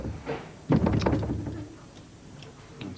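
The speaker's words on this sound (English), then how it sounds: "show some muscle and open the door for me?" A jammed door is shoved open with a cluster of heavy thumps and rattles partway through, then the sound settles to quieter shuffling.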